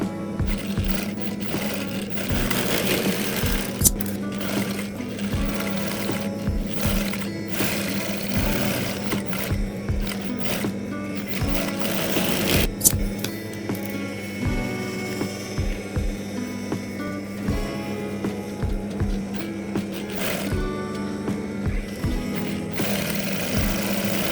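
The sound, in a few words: sewing machine stitching hijab fabric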